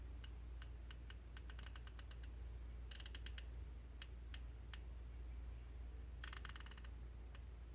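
The turret of a Nightforce SHV 4-14x50 F1 MOA rifle scope is turned, giving quiet, crisp, close clicks in quick bursts and single ticks against a low background hum.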